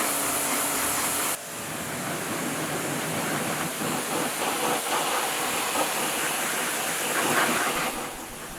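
V-TUF V7 pressure washer spraying a race car, a loud continuous hiss of high-pressure water that shifts in tone partway through as the jet moves across the surface.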